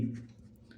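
A pen writing numbers during a maths lesson gives a short, faint scratch of strokes over a low room hum, less than a second long.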